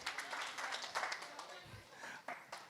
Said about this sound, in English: Clap 3 times for the bride and groom.